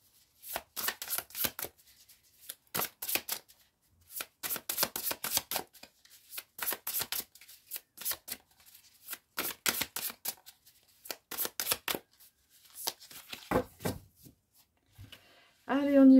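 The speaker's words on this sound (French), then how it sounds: "Je vais mélanger le tarot et ensuite, je vais l'étaler et sélectionner." Tarot cards shuffled by hand before a reading, in repeated short riffling bursts separated by brief pauses, close and fairly soft.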